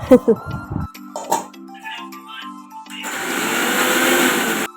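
After a few seconds of clatter and brief talking, a mixer grinder starts up and whirs steadily and loudly while blending a rice flour and jaggery laddu mixture.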